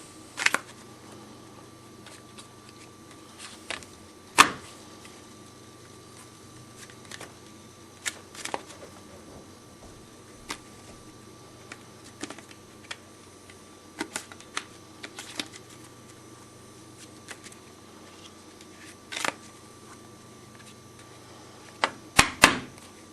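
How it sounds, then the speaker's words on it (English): Playing cards mixed and cut repeatedly during a card trick, heard as sparse sharp snaps and riffling clicks scattered over a quiet room background, with no talking. "So if I mix all these cards up, give as many cuts as I possibly can."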